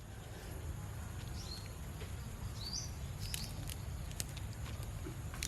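Light rain patters steadily outdoors, with scattered drips and faint bird chirps over a constant hiss.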